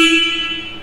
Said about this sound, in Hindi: हॉर्न की आवाज़ एक बार मैं आपको सुनवा देता हूँ।